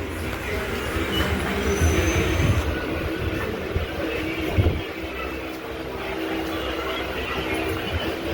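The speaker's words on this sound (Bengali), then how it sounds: "ট্রেন ঢুকে গেল।" A train pulls into Shyamnagar station, its carriages rumbling and clattering close by with a brief thin squeal of wheels and a couple of heavier knocks as it slows, over a steady platform din.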